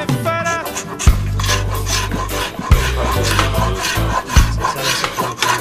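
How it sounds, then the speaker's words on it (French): A piece of window glass scrapes across a carved wood sculpture in steady, rough rasping strokes, close and loud, with low grinding pulses repeating every second or so and no speech. "On cherche des morceaux de vitre comme ce truc, voilà, et puis on gratte"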